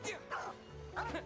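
A dog in the video game Genshin Impact gives two short barks close up, spaced about half a second apart.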